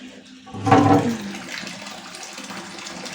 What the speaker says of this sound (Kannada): ಬನ್ನಿ ನೀರು ಬರುತ್ತವೆ, ನಾನು ನೋಡೋಣ.